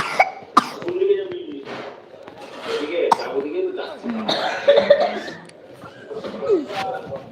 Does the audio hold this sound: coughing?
yes